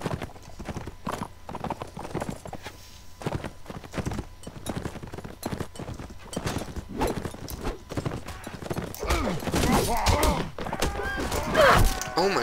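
Horse hooves clip-clop steadily in the medieval combat game Mount & Blade: Warband, a close, continuous rhythm of thuds with a brief whinny-like sound near the end.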